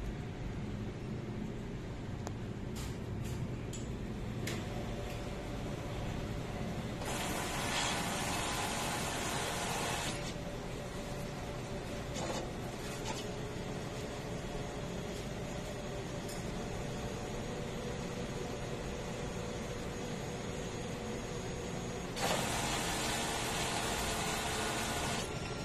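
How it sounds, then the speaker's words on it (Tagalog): A DTF printer machine runs a print head cleaning cycle, giving a steady mechanical hum with two louder bursts of hissing, whooshing noise partway through and again near the end. No one speaks. "Ito po ang DTF machine ng DM Felix. Ito po ang printer head at capping. Ito naman po ang head clean."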